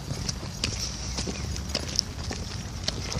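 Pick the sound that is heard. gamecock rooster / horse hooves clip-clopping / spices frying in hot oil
horse hooves clip-clopping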